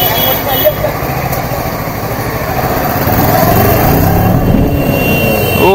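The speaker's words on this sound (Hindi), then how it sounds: "दिवाली की वजह से जाम लगा हुआ है काफी।" Engines idle and rev in a Diwali traffic jam on a busy road, heard close and continuous, a steady rumble of motorcycles and cars that swells slightly toward the end.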